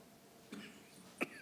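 A person coughs twice during a city council meeting, a faint short cough followed by a louder, sharper one, heard alone against quiet room tone.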